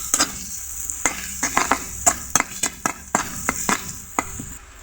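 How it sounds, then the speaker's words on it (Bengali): Chili and turmeric powder spice paste stirred and fried in a pan for a rohu fish curry, a quiet sizzle broken by irregular scrapes and clinks of the spoon, close and without talk. "মরিচ গুঁড়ো, হলুদ গুঁড়ো। এগুলোকেও নেড়ে চেড়ে 2 মিনিট কষিয়ে নিব।"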